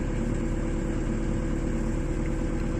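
An excavator's diesel engine idles steadily in a low, even rumble with constant vibration, close by and unbroken throughout, with no voices.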